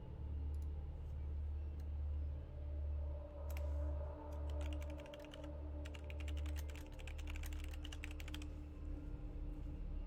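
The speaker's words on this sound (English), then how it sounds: "I've been typing out the ideas here, at least in summary." Fast typing on a computer keyboard, with bursts of clicking keystrokes heard close by over a low, pulsing background hum. No one speaks.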